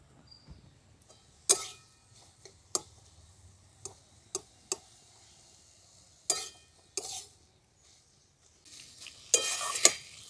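Drumstick flowers and vegetables are stirred in a pan, giving sparse sharp spoon scrapes and taps against the pan at irregular intervals over near silence, with a brief burst of sizzling toward the end.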